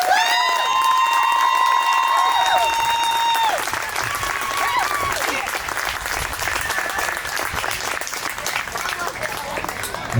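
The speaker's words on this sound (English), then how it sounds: "One more big round of applause for Megan Vallejo." A Memorial Day parade crowd applauds and cheers for a speaker, loud dense clapping with shouts and whistle-like cries mixed in at first, then settling into steady applause that carries on to the end.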